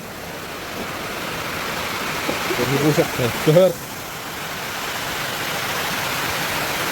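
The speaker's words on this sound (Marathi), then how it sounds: "काय राव पाऊस आहे का चेष्टा आहे" Heavy rain pours steadily outdoors at a bullock cart race ground as a continuous hissing wash, with someone speaking briefly partway through.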